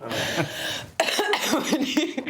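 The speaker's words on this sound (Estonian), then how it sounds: "Oot, ma pean köhima." A few sharp, throaty coughs close to the mic, one after another with short gaps, followed by a brief throat-clearing sound.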